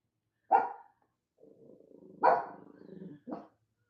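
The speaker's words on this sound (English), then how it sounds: "Sorry about the dogs." Dogs bark close by in a home: a sharp single bark, a stretch of low growling, then another loud bark and a shorter final one.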